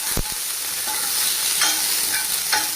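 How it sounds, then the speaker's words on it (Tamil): Shallots and peeled garlic cloves sauté in oil with fennel for a ground-masala fish curry, a bright continuous sizzle up close, with a knock at the start and a few soft stirring scrapes. "2 கட்டு பூண்டு உரித்து வச்சுருக்கு, இதையும் போட்டு வதக்கிக்கிடலாம்."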